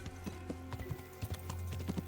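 Horse hooves clip-clop at a steady walking rhythm in Kingdom Come: Deliverance, soft and close, with a faint snort between steps and no talk.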